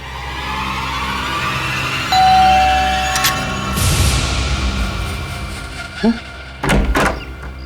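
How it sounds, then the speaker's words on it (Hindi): A house door is answered and opened, with a short tone like a bell early on and then a couple of close, heavy thuds and knocks toward the end, set against steady background music. "दरवाजा खोलने में इतना वक्त क्यों लगाया?"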